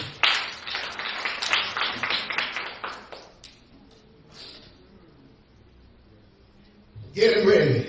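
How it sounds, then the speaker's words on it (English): A church congregation at a Sunday morning service claps in praise with a run of sharp, rhythmic hand claps that fade into quieter talk, then a loud burst of sound near the end. "Give the Lord a hand clap of praise."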